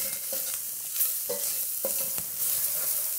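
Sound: stirring crushed garlic and herbs in a pan

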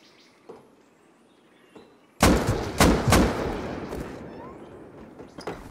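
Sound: gunfire shooting down a tower in Rust (video game)

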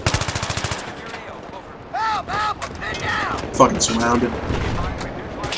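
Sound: gunfire from enemies in the video game Battlefield 3

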